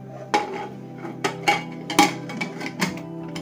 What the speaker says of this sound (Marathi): बघा, कुकरला झाकण लावले।